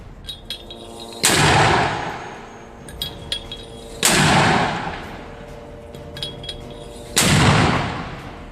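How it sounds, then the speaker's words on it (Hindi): Three loud rocket launches from a launcher fired by a Hamas fighter in Gaza, each a sharp blast followed by a long roaring whoosh, spaced about three seconds apart, with clanking metallic handling sounds between them. "इसके बाद हमास का दूसरा लड़ाका लॉन्चर में रॉकेट भर के ताबड़तोड़ तरीके से फायर करने लगता है।"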